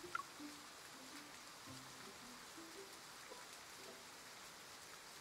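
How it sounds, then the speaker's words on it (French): Steady rain falls in an even, continuous hiss at low level, alone with no voices, through a long calm stretch. "la pluie qui tombe par contre, c'est tellement relaxant"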